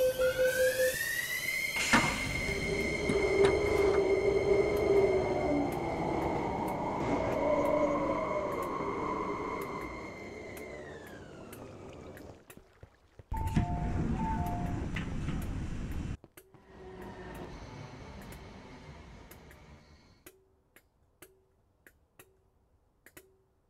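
An MTR metro train glides into a station with a long whining electric hum that rises, holds and winds down, then doors open with a chime and rhythmic ticking follows.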